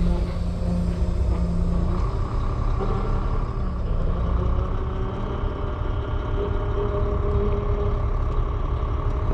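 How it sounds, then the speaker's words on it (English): A truck cab rumbles continuously as the vehicle rolls and swings through a sharp turn, a steady loud low engine and road drone with no talk. "This truck can turn so sharp."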